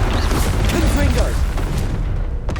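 A Confringo fire spell blast from the video game Hogwarts Legacy, heard as a loud, sustained booming rumble that fills the whole moment, with voice-like calls mixed into the dense noise.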